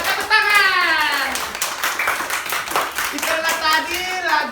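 After a fruit song in a classroom, a group of children claps hands, quick bright claps running under an adult's talk and children's voices throughout.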